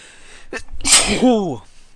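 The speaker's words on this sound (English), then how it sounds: "I'm gonna sneeze." A single loud sneeze, with a sharp breathy burst followed by a trailing voiced exhale, close to the listener.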